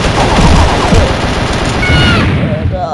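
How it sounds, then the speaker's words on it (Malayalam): Rapid bursts of gunfire in the Mini Militia video game, loud dense volleys of shots and booms filling the whole stretch, crowded and continuous. "അതാ തോക്ക് അടി പോയി."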